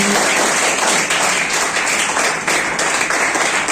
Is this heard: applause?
yes